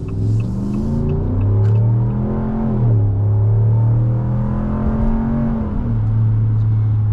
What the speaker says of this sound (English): there you get a little taste of that wonderful HEMI V8 sound with the standard now sports exhaust system